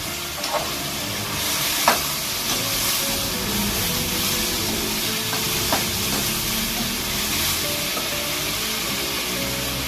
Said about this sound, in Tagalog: Haluin muna natin ito.